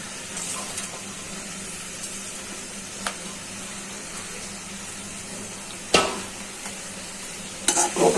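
Chopped green chilies fry in a pan for a leafy greens dish while a utensil stirs them, giving a steady soft sizzle with a few sharp scraping clicks near the end, and no voices.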